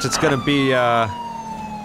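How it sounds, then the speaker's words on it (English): Police car siren in the LSPDFR mod for GTA V, a loud electronic wail rising and sweeping close by for about a second before cutting off to a low hum, with a brief voice at the start. "Let's get that siren back on. That way people can hear us."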